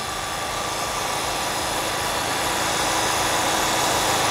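A stock Subaru Impreza GRB Spec C engine idles steadily in an open engine bay, a constant broadband hum with the air conditioner adding a faint whine over it, with no talking.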